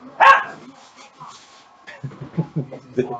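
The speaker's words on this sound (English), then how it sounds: "It wouldn't be a DT podcast without a dog barking in the background." A dog barks in the background of a podcast recording, giving one sharp bark followed by a few softer yips, while people talk nearby.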